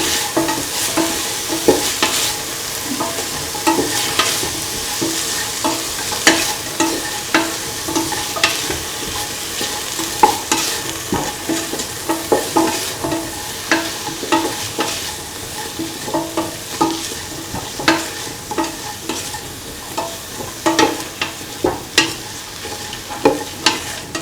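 Carrot and bottle gourd mixture with salt sautéing in a pan, a steady close sizzle with a constant run of spoon scrapes and stirring clatter, no talk.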